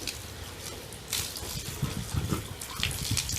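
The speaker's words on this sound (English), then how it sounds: "the hose is the best way to get the bubbles out" Water gushes and splashes steadily from a hose rinsing shampoo from a tail, a broad hiss with uneven spattering bursts, close and fairly loud, with no talking.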